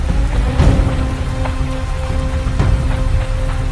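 Heavy rain at night in a horror drama, a dense, steady downpour drumming on surfaces, loud and continuous, with a faint low rumble beneath and no voices.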